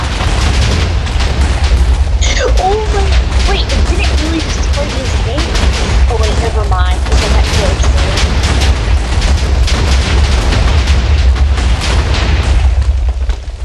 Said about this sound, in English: Alright, particle bombs, away.